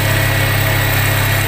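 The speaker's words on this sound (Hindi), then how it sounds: "हमने इंजन को गर्म नहीं किया था, इसीलिए आगे बढ़ता जा रहा है। ये 4000 की स्पीड में आ चुकी है" A warmed-up motorcycle engine runs at around 4000 rpm, a loud, steady droning hum with a low throb and no pauses.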